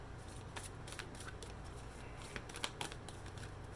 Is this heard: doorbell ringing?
no